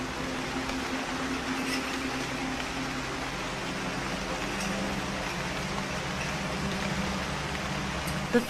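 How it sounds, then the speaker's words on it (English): Steady rain showers on open savannah grassland, a soft continuous hiss with no clear drops, faint and even throughout with no voices. "The first April showers finally fall on the savannah."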